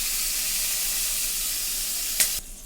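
Hot fried oil poured into a pan of sauce and salt, a steady loud hiss and sizzle with one sharp spit near the end before it drops away.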